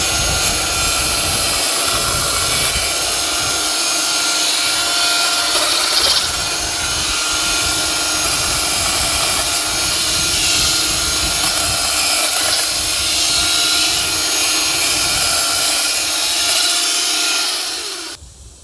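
A Toro 60V modular power tool runs steadily at close range, giving a loud, continuous whirring drone that holds for about seventeen seconds before cutting off abruptly at the end.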